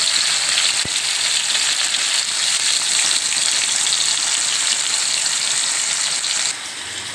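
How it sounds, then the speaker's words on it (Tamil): Steady, dense sizzling of fish frying in hot oil, loud and close, with a continuous crackling hiss that drops slightly near the end. "மீன் பொரிக்கிறது."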